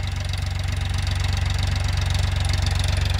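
A Farmtrac 45 tractor engine runs close by while ploughing sugarcane, with a steady, rapid diesel chugging throb at constant speed, with no voices.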